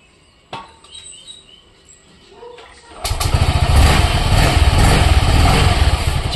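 A Yamaha Fazzio scooter's CVT engine starts and settles into a steady, loud, close idle with a rough chattering drone, preceded by a few quiet clicks and faint talk.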